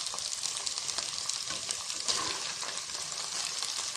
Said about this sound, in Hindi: इसका रंग सफ़ेद होने तक इसको अच्छे से फ्राई करेंगे चिकन को